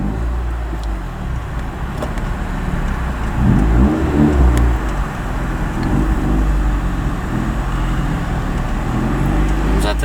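A Honda 1.6 car engine runs loudly up close, swelling into a rev around the middle and then holding a steady, rumbling drone for the rest of the stretch.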